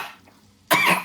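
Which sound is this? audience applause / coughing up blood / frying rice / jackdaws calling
coughing up blood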